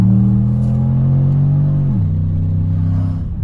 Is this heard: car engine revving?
yes